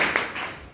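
Claps from a form two classroom during a lesson on plant nutrition, a quick burst of hand claps that fades over under a second.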